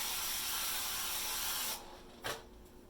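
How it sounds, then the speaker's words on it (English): Canola oil cooking spray hisses steadily onto a pan for almost two seconds, close and loud, followed by a quieter short second burst. "It's canola oil cooking spray."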